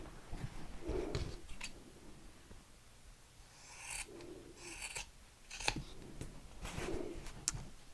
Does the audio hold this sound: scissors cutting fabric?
yes